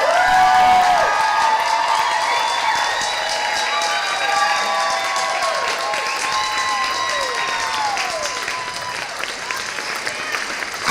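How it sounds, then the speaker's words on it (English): Outdoor crowd at a march for racial justice claps loudly for the speakers, dense sustained applause with cheers and whoops rising over it, slowly thinning toward the end. "if you would join me in giving one last big round of applause to our speakers"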